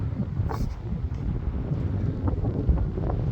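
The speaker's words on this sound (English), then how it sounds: "on a windy day like today" Steady outdoor wind buffeting with a low rumble at Ardwick Station, a curved railway station, moderately loud and continuous throughout, with no clear speech.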